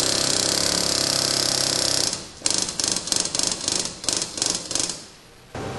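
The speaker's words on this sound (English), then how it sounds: "I'm going to use an impact driver to install the guides." An impact driver drives valve guides into an Oldsmobile 324 Rocket 88 cylinder head. A steady loud whir comes first, then rapid rattling hammer bursts in close succession, heard up close without talk.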